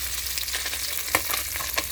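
Fish fries in a hot pan with a dense, steady sizzle and crackling spatter, with a few sharper pops, heard up close and without talk.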